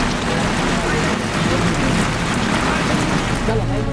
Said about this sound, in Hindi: अब वहां सिर्फ बारिश की बूंदों का शोर सुनाई दे रहा है।